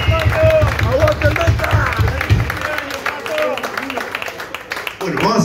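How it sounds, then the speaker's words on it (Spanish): Audience applause and cheering at a live rock concert in a bar, a dense crowd roar with clapping under loud music and a voice on the microphone, fading toward the end. "fuerte aplauso a otro que ayuda"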